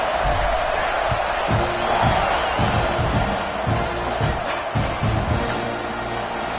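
Roaring video game stadium crowd at a Madden football kickoff, a steady dense wall of cheering with thumping low bursts throughout, loud and continuous.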